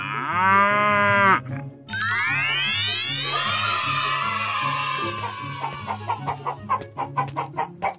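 A cow gives one long, loud, close moo, then birdlike calls and clucking follow in a quick series of farm animal sounds.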